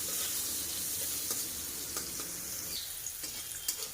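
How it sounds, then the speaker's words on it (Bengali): Sliced bitter gourd frying in hot oil with a little salt and turmeric, a steady moderate sizzle with occasional stirring clicks and pops, heard alone without talking. "এবার উচ্ছেগুলোকে ভাজা করে নেব।"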